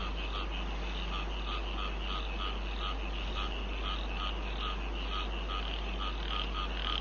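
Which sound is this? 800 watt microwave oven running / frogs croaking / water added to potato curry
frogs croaking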